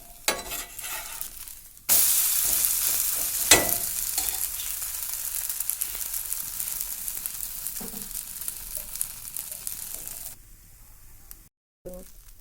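Adai dosa sizzles on a hot pan, a steady close crackle with a brief louder scrape around the flip, then the frying sound drops away near the end.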